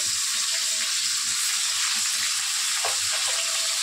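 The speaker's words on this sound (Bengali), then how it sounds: "এবারে আমি টমেটোটা দিয়ে দিচ্ছি।" Tomatoes drop into frying onions in a pan, giving a continuous close, bright sizzle with faint bubbling and a brief stir near the end.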